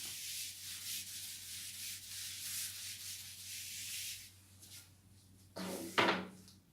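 Eraser or cloth rubbing writing off a board, a steady scratchy swishing for about four seconds, then a short pause and a brief louder wipe near the end, with no talking.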